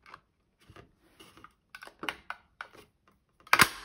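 A small paper punch working on a piece of card, a series of quiet, scattered clicks and snips building to one sharper, louder punch near the end, with no talking.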